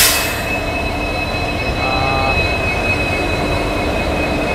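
A passenger train on the Bengaluru–Mysuru route rumbles along steadily with a sustained high wheel squeal over the track noise, close and continuous, with no talking.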